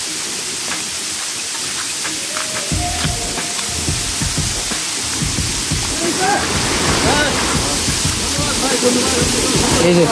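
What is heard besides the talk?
waterfall water rushing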